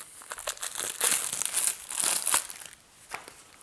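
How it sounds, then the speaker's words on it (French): A pile of Helionox deluxe-edition cards is gathered up by hand, giving close, crisp crinkling and shuffling rustles in quick uneven bursts. "Alors, prenons un tas de cartes au hasard."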